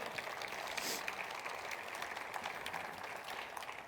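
A church congregation applauds steadily for several seconds, a dense, even wash of many hands clapping with a brief louder swell near the start, no voices over it.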